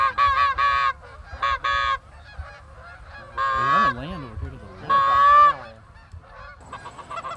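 Geese during a goose hunt honk in several loud bursts, some near and some farther off, with quiet gaps between the calls.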